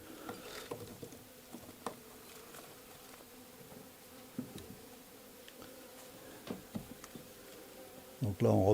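Honeybees buzz around an opened Warré hive holding eight frames of brood, a faint, continuous hum with individual bees zipping close past, and light knocks and handling noises throughout.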